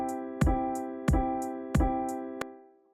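Short intro music track arranged in Soundtrap, a chord with a percussive hit repeated four times at even intervals, each ringing out before the next, ending on a brief final hit.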